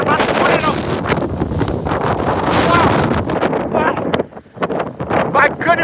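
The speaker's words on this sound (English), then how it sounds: "Oh, violent wind here." Violent wind roars in a severe storm near Manhattan, Kansas, loud gusty buffeting against the microphone with a brief lull before picking up again; a person talks over it.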